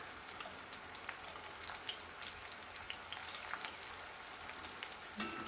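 Homemade tortilla chips frying in oil in a pan, a steady dense crackling sizzle with scattered pops throughout, close and moderately loud with no talking.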